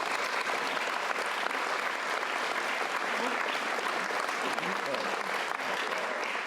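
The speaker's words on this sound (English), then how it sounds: "Let's give him a round of applause." Sustained round of applause from attendees at a bar association annual meeting, dense and even clapping that fills the room at steady loudness throughout.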